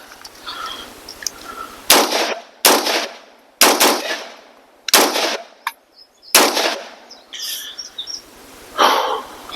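A BRN-180 rifle fires about seven sharp, loud shots outdoors, spaced unevenly, each with a short echoing tail, with faint birdsong between shots.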